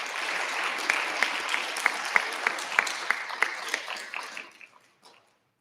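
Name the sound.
applause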